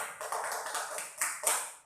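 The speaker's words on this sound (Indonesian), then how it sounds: "Tepuk tangan untuk Benny" A classroom claps for a student who has just answered, a short burst of scattered hand claps from a small group, fairly close, with two sharper accents near the end.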